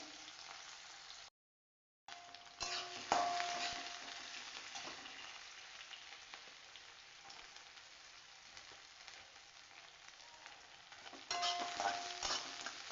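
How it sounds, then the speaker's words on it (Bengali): Chopped onion and garlic, added after a five-spice tempering, frying in hot oil in a pan for a Bengali yam and fermented fish dish, a steady crackling sizzle with a brief gap and louder bursts as ingredients drop in. "এই পেঁয়াজ কুচি দিয়ে দিলাম রসুন কুচিগুলোও দিয়ে দিলাম"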